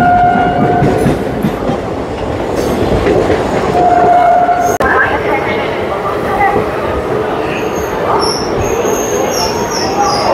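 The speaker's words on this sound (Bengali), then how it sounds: "ফালাকনামা এক্সপ্রেসের খালি গাড়ি নিয়ে যাওয়া হচ্ছে হাওড়া স্টেশনে।" Empty coaches of the Falaknuma Express roll toward Howrah station with a loud, steady rumble and wheel clatter, broken by brief high tonal whistles near the start and middle.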